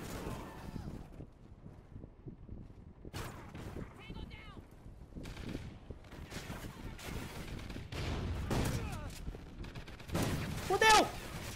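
Bursts of video game gunfire, including shotgun, crackle in scattered volleys, mixed with game effects and occasional voices, ending in a louder shot and a whistling tone.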